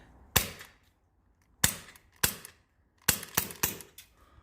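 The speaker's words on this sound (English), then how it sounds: "It's actually one of the loudest guns I own, and it doesn't have a lot of range, but it's good for plinking close by." A loud cap-gun-style pistol fires close by: a single sharp crack, two more spaced shots, then a rapid cluster of three or four snaps, with silence between them and no talking.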